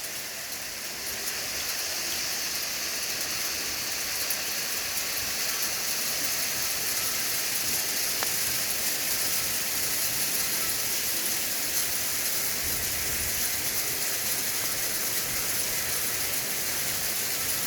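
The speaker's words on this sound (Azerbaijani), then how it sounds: "Dolu başladı" Steady, dense patter of hail coming down, an unbroken hiss of impacts lasting throughout with no voices.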